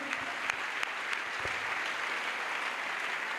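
A church congregation at a crusade gathering in Douala claps together, a steady dense patter of many hands with a few sharper slaps standing out, moderately close and continuous throughout.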